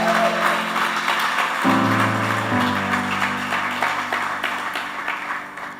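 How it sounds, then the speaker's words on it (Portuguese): A church congregation claps steadily in their seats, a dense patter of applause running under sustained worship music. "Você pode aplaudir no seu lugar?"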